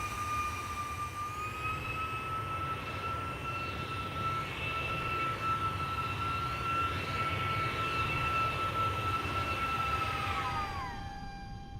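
An MD-11F airliner rolls out after landing in X-Plane 12, steady loud jet-engine whine with a rushing roar that spools down and fades near the end.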